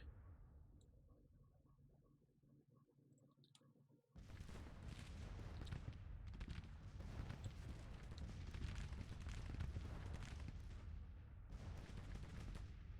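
Musket fire in the Civil War strategy game Grand Tactician: The Civil War comes in as dense, overlapping volleys of crackling shots. They start suddenly a third of the way in and roll on loudly, with a few brief lulls.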